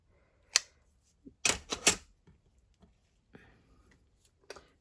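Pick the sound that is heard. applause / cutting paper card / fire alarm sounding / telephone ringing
cutting paper card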